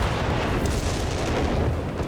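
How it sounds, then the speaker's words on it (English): Artillery strike explosions in Company of Heroes 3, a dense, continuous roar of booming blasts filling the whole stretch at high loudness with no speech. "Artillery strike"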